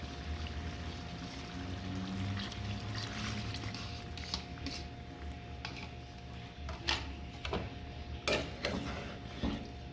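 Water poured into a pot of chicken cooking for morog polao, a steady liquid wash with faint pot clatter and a few sharper clinks, close and moderately quiet.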